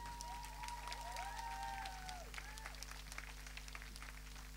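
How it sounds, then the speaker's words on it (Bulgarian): Audience applause at a live concert in a Sofia club, a steady wash of clapping with sustained musical tones ringing above it throughout. "Аплодисменти!"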